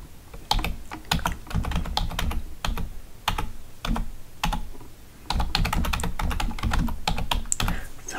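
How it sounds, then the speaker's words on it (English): Rapid, uneven keystrokes on a computer keyboard clatter up close in a quiet room, with brief pauses between bursts and no talking. "Sorry, I'm typing."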